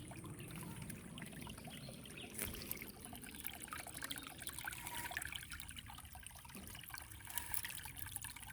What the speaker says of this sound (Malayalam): വെള്ളം നല്ലപോലെ ഒഴുകുന്നുണ്ട്.